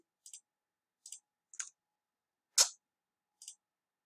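Computer mouse clicks while setting up a code editor, five sharp isolated clicks spaced irregularly over four seconds, the fourth louder and fuller than the rest, close and quiet with silence between.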